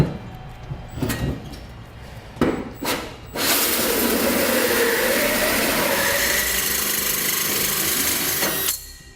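A 3.5-inch hole saw bores through a Ram 3500 truck bed for a gooseneck ball, a few short tool bursts giving way to a sustained loud grinding cut that stops abruptly near the end.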